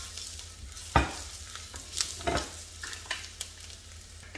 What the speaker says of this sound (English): I'll start by frying my onion for about 2 minutes or until it becomes translucent